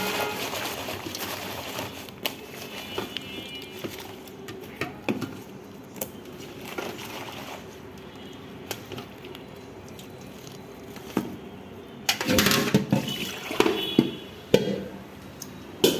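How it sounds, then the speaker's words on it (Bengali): Dirty white flowers soaked in detergent powder being washed by hand in water, with soft squishing, dripping and light patter, quiet at first and then a louder stretch of splashing near the end. "এখন আমি ফুলগুলো ধুবো।"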